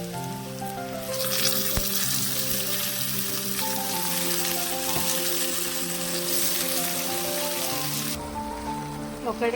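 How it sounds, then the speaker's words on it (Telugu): Spinach hits hot tempering oil for a village-style palakura nuvvula karam, setting off a sudden loud sizzle that holds steady for about seven seconds before dropping away, with music playing underneath. "తాలింపు బాగా అయింది కదండి. ఇప్పుడు మనం పాలకూర వేసుకుందాం."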